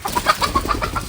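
A quick run of rhythmic, close clucking calls from chickens, repeating several times in about a second.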